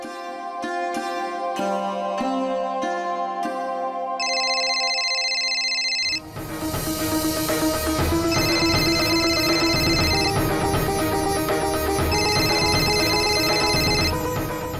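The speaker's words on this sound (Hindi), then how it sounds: "माँ का फोन आया है।" A telephone rings repeatedly in a domestic scene, its electronic tone loud and steady, then continues under swelling background music.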